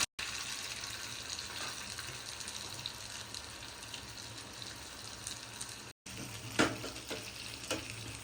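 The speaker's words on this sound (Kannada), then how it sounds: "ಈಗ ಗೀ ಬಿಸಿಯಾದ ನಂತರ ನೀರುಳ್ಳಿ ಹಾಕುವ" Onions sizzle and fry in hot ghee, a steady crackling hiss with a few sharper pops and stirring scrapes, close by and without talk.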